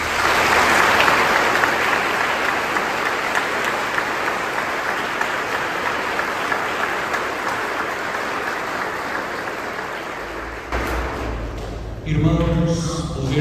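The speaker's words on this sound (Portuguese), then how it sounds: "acolhemos os novos ministros e aqueles que renovam o compromisso com uma salva de palmas" A church congregation claps steadily for about ten seconds at a Corpus Christi triduum Mass in the parish of Nossa Senhora Aparecida, a dense, fairly loud wash of applause that fades out before other room sounds follow.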